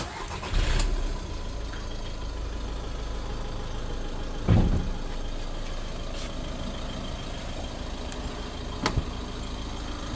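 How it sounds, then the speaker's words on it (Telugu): A 2018 Skoda Rapid diesel car is started, with a low steady rumble throughout and sharper cranking bursts near the start and middle, then a brief blip near the end. "ఒకసారి నేను ఇంజన్ స్టార్ట్ చేస్తున్నానండి,"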